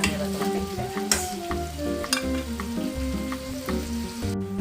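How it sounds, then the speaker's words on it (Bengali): Sliced onions sizzle in hot oil in a pan for a Bengali chicken curry, with a spatula clattering and stirring at a regular rhythm close by. "এবার পেঁয়াজটা একটু ভাজা হোক"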